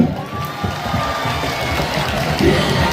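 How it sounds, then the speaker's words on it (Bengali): Crowd at a stage show at the Barishal rural cottage industries fair, clapping and cheering loudly in a dense, steady roar that swells near the end, with scattered shouts in the mix. "সো সেনাবাহিনী ভাইদের সকলের পক্ষ থেকে জোরে জোরে করতালি চাই"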